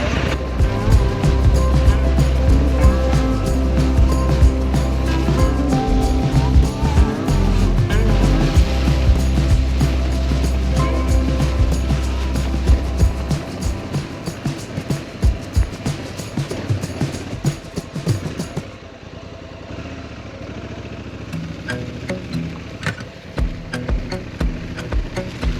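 Honda adventure motorcycles ride down an off-road trail on Exmoor, their engines droning loudly and continuously before fading into lighter rattling and crunching from the terrain.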